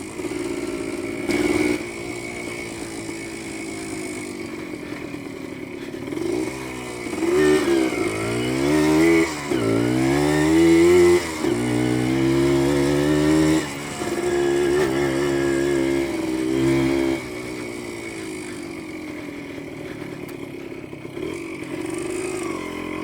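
Kawasaki F7 motorcycle, an older bike on 6-volt batteries, ridden on loose dirt, its engine revving up and down in several rising surges, fairly close, then settling to a steady idle-like drone.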